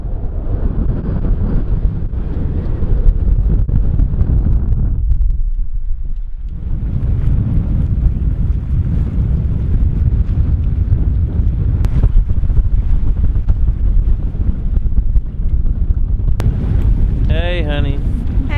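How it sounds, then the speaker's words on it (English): Strong wind roars over a sailing boat at sea near a channel in force 6 conditions, a loud, continuous buffeting rush broken by a brief lull, with a voice speaking over it. "It's a beautiful place, but oh my god, it's windy."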